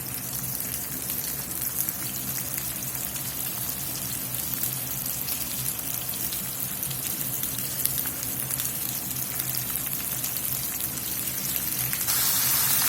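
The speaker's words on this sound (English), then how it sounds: "when they start sizzling up pretty good" Country ham and ham bones sizzle in cooking oil over medium-high heat, a steady crackling hiss like light rain that holds throughout and swells slightly at the end, with no talking.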